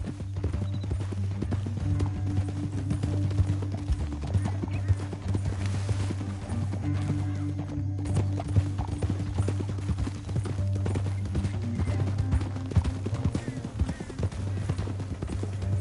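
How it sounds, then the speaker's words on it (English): Hooves clip-clop steadily as horses ride along at a brisk pace, a continuous rhythmic clatter close by with a low rumble underneath. "Up here, get off your horse."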